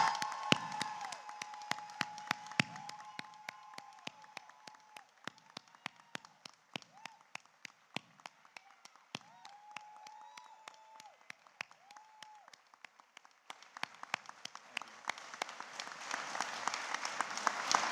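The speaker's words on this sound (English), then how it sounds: "please join me in a round of applause for the newest officers in the United States Army" Audience at a spring university commencement ceremony applauding newly commissioned US Army officers, steady sustained clapping filling the hall and swelling louder toward the end.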